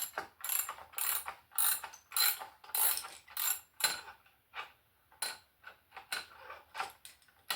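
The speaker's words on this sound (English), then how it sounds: "This is a really junky ratchet. That is basically broken right there." A worn, junky ratchet wrench tightening a bolt, giving repeated bursts of loud, close, rasping clicks in a steady back-and-forth rhythm, each burst followed by a brief pause.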